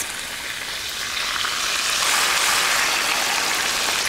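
Tomatoes hit a hot pan of anchovies and oil for puttanesca sauce, and the steady hiss swells louder partway through, a broad, continuous sizzle with no voices over it.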